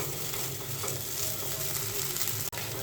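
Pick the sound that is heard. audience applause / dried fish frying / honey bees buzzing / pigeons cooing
dried fish frying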